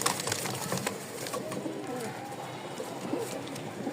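Lahori pigeons cooing inside a cage, with soft, steady low coos layered over a dense murmur of other birds, continuous and fairly close throughout.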